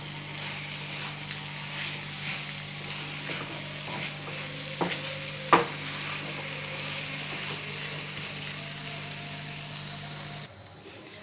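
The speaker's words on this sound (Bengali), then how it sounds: "মন্ডটা দেখুন নাড়তে নাড়তে অনেকটা শক্ত হয়ে গেছে আমি আরেকটু নাড়বো" A thick carrot laddu mixture sweetened with condensed milk is stirred and scraped in a pan over a low gas flame, a steady soft sizzle with a few sharper spoon knocks near the middle before it cuts off.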